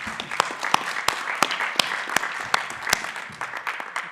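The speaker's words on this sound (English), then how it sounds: "give yourselves a clap as well" Conference audience at a carbon farming session applauding, dense clapping from many people with sharp nearby claps popping out above the crowd, sustained for several seconds.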